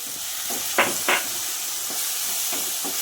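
Green chilli chicken and masala paste fry in hot oil with a steady, bright sizzle. A few louder spits and stirring scrapes punctuate the hiss. No one speaks.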